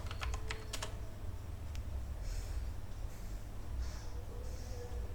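Commands typed on a computer keyboard in a terminal: a quick run of keystroke clicks in the first second, then a few sparse taps over a steady low hum.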